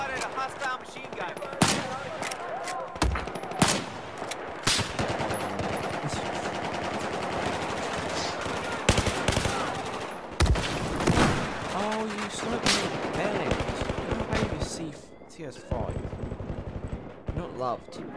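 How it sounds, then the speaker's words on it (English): Rapid machine gun fire in a first-person military shooter game, loud sustained bursts with sharp separate shots and occasional pauses, under a radio voice and game chatter. "Spotted a hostile machine gun."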